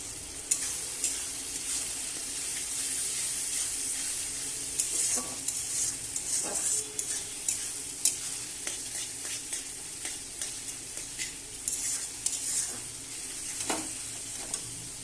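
Everest spice mix fries in oil for a kalai lentil tarka, a close, steady sizzle with repeated spoon scrapes and stirring strokes throughout, no speech.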